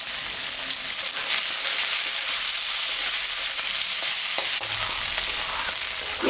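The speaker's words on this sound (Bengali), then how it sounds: "পেঁয়াজটা আমি দিয়ে দিলাম, একটু ভাজা ভাজা করে নেড়ে পেঁয়াজ" Onions frying in mustard oil in a kadai, a loud, steady sizzle close by, with soft stirring scrapes and a brief clatter near the end, and no talk.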